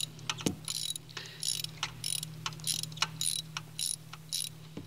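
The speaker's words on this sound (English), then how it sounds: "You simply crank it off." A ratchet wrench fitted with an extension and a long socket loosens a car spark plug, giving quick, fairly quiet bursts of clicking over a steady low hum.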